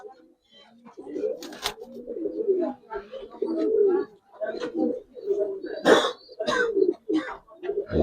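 Giribaz pigeons coo in a series of soft, rounded bursts repeating every second or so, close by, with someone talking over them and a few sharp knocks or flutters mixed in.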